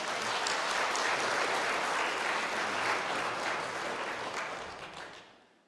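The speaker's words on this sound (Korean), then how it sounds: "격려의 박수 부탁드리겠습니다" During a Sunday church service, the congregation gives encouraging applause to a church member about to enter the military: a full, even roomful of clapping that holds steady, then thins and fades out at the end.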